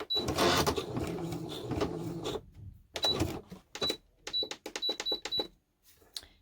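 A sewing machine runs a zigzag stitch around junk journal pages in short, stop-start bursts of rapid mechanical chatter, close and moderately loud, with brief pauses between runs.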